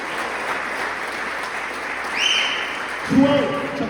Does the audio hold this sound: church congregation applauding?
yes